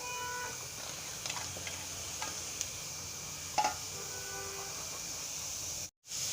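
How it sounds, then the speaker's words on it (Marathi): Onions dry-frying without oil on a hot tawa give a soft, steady sizzle and hiss, with occasional light scrapes and taps of a stirring utensil, close but quiet, and a brief cut to silence near the end. "कांदे आपल्याला असेच फ्राय करायचे ड्राय"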